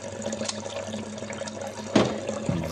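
A juicer's auger is rinsed under a running kitchen tap, with a steady close stream of water and a couple of splashy changes as the part moves through the flow.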